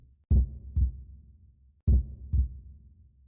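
Two double-thump heartbeats, lub-dub pairs about a second and a half apart, sound loud and close and stand alone in the survival horror game Urban Myth Dissolution Center.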